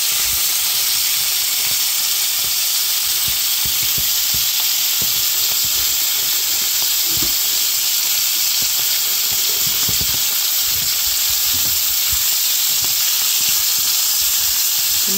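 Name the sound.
Filipino longganisa sausage boiling in a pan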